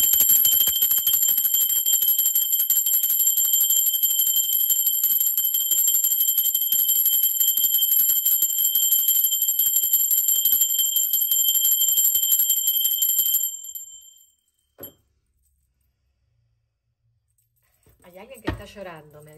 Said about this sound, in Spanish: No te asustes por la campana.